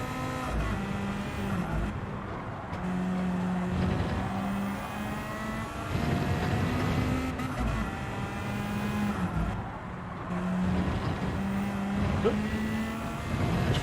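Toyota Supra race cars roar through a Gran Turismo race, engines revving and shifting in repeated rising sweeps, with cars passing by at a steady moderate level and no talk.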